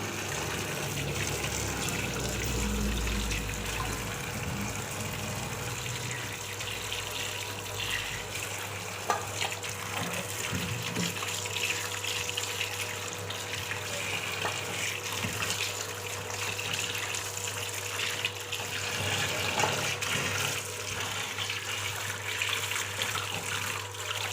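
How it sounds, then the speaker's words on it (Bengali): Capsicum, carrots and beetroot are rinsed under a running kitchen tap, giving a steady, unbroken rush of water with faint splashing throughout and no talking. "সেখানে ক্যাপসিকাম, গাজর, বিট, সমস্ত সবজি আমি ভালোভাবে ধুয়ে নিচ্ছি।"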